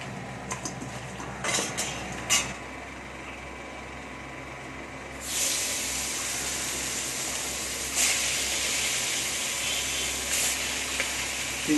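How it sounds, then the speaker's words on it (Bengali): Three large local koi fish coated in salt and turmeric drop into hot oil, bursting into a loud, steady frying hiss after a few early clinks of kitchen utensils, with no voices. "তিনটে করে মাছ ভেজে নিচ্ছি।"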